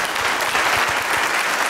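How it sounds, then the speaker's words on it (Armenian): An audience claps for Zara, a short dense burst of many hands applauding at an event, loud and close, with no talk over it. "Ծափարեք Զարային։"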